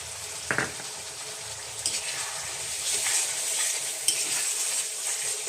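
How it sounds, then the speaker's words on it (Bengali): Jackfruit curry with soaked bean seeds is stirred and sautéed in a pan over medium heat, giving a close sizzle with scraping spoon strokes at intervals and a brief clink, no talk. "উনানের আঁচটা মিডিয়ামে রেখেছি, রেখে আমি এটা কষিয়ে নিচ্ছি"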